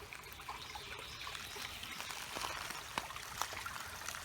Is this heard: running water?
yes